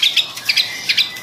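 A kacer, or oriental magpie-robin, sings in a series of bright, high paired chirps, three quick clusters repeated clearly and close with no talk.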